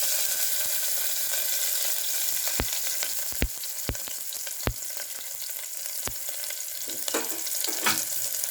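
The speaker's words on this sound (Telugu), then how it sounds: "ఇలా ఆయిల్ వేడెక్కిన తర్వాత ఆవాలు వేసుకొని ఆడిన తర్వాత" Mustard seeds pop and splutter in hot oil with sharp, scattered crackles over a continuous sizzle, near and fairly loud.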